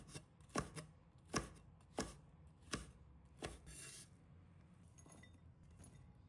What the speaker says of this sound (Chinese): 3条小米辣，去蒂后斜刀切成薄圈